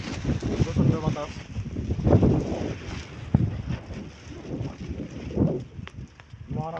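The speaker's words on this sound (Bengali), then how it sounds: "প্রচন্ড বাতাস" Strong wind gusts beside the Turag river bridge at Mirpur Eastern Housing, Beribadh, a loud steady buffeting roar across the microphone with someone talking over it throughout.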